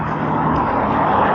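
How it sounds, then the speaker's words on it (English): A car going past on a road during a morning e-bike ride, a loud continuous broadband rush of engine and tire noise across the whole clip, no voices. "Here comes a car."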